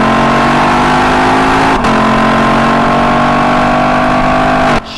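A Lexus LC 500 driving on winding forest roads, its engine note holding steady and strong close by, with a brief dip partway through before the sound cuts off at the end.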